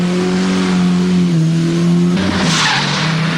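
A 1983 Skoda rally car on a Lombard RAC Rally stage, its engine droning steadily at high revs before a burst of tyre skid and gravel spray near the end.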